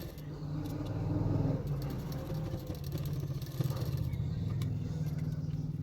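A sewing machine stitches along the edge of a hook strip on a high-neck double katori blouse. Fast, steady mechanical whirring comes in close bursts with brief pauses between runs.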